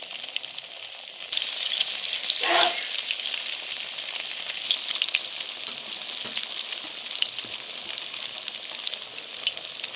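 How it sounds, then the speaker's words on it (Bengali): Fish pakoras deep-frying in hot oil, a steady soft sizzle and bubbling that swells after a moment with a brief splashy crackle, continuous and fairly quiet. "বাকিগুলো ভেজে নিব।"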